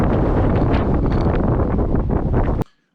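Strong, cold wind buffets the microphone at an outdoor rifle range, a loud continuous rumbling roar that fills the clip before cutting off abruptly near the end.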